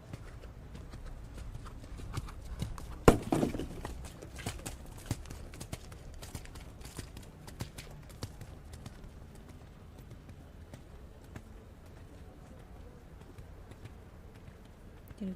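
Horse hooves canter in a dressage arena at a junior eventing European championship, a steady rhythmic clip-clop on soft footing with one sharper thud early on, moderately distant and fairly quiet.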